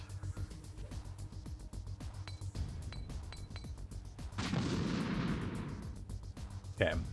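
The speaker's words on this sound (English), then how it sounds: "Just throw the stun grenade right next to me" A stun grenade goes off in Metal Gear Solid: The Twin Snakes, a broad burst of noise lasting a couple of seconds over busy game sounds and faint speech, followed by a sharp metallic clink.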